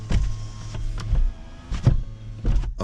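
Electric power windows of a 2024 Hyundai Ioniq 5 SEL move in short bursts, each a brief motor whir that starts and stops several times inside a quiet cabin, with no talking.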